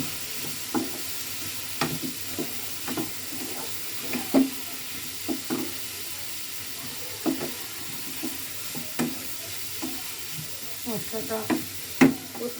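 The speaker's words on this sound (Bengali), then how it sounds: "দিয়ে মাশরুম দিয়ে আমি ওটা বেশ কিছুক্ষণ কষাতে থাকবো" Mushrooms sautéing with spices in a pan, a soft sizzle under repeated scraping and tapping spatula strokes at an uneven pace, close and fairly quiet.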